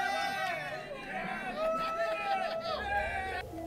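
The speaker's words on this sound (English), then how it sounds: "As Steve finishes the last drop, the crowd goes crazy." A crowd in Munich erupts in loud, excited shouting and babble as Steve drains the last drop of his drink, many overlapping voices close by and continuous throughout.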